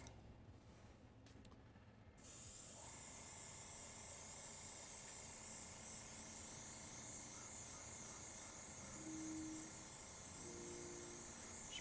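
An airbrush sprays a second, fairly thick coat of paint onto a 3D printed Darth Vader can cozy, a steady close hiss that starts after a short quieter lead-in and runs unbroken to the end.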